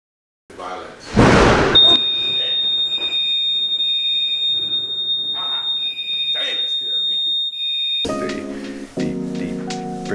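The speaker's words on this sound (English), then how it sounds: "The freaking alarm was going off." A steady high-pitched electronic alarm tone sounds for several seconds, with a burst of noise and some speech-like sounds around it, ending abruptly.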